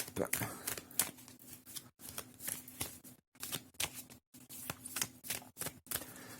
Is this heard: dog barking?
no